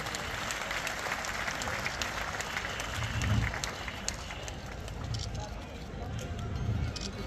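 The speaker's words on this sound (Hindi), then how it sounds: "जोरदार ताली होनी चाहिए" Audience applause for a state governor at a ceremony, a dense, sustained patter of clapping heard from a distance, swelling slightly at moments and holding steady throughout.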